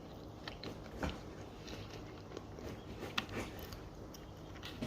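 Kimchi is chewed up close on a rainy day, making soft, wet, crunchy bites in an irregular rhythm at a low level, with no talking.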